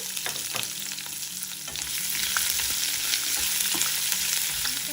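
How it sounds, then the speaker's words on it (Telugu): Onion pieces fry in oil with dried red chillies and cumin seeds, giving a dense, continuous sizzle that grows louder partway through, broken by soft scraping stirs. "ఎండుమిరపకాయలు కూడా వేగాక ఉల్లిపాయ ముక్కలు వేసి వేయించుకోవాలి"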